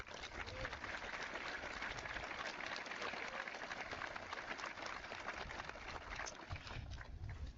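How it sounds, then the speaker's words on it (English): A graduation ceremony audience applauds in a steady, sustained wash of clapping from many hands, moderately distant and even throughout, with no talk over it. "Please give Devin Schmidt a round of applause in his absence."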